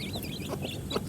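A hen clucking softly among farm chickens, a few short quiet clucks close by over low background noise.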